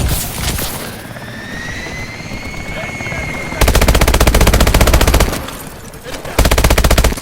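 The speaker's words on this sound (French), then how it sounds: "Hélico d'Atlas en approche! Il déploie des hommes!" Combat in the Call of Duty Advanced Warfare campaign: a hovering helicopter's whine and rotor drone, then long, loud bursts of rapid machine-gun fire, with voices calling out over the action.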